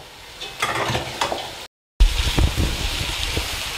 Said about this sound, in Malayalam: ഇതിലോട്ട് ഞാൻ സവാള അരിഞ്ഞു വെച്ചത് ചേർക്കുന്നുണ്ട്